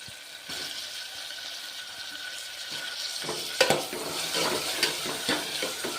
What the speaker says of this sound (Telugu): కాస్త వేగాక టమాటా వేస్తున్నాను